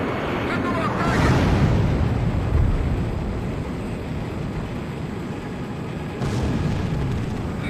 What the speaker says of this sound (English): Missile on target.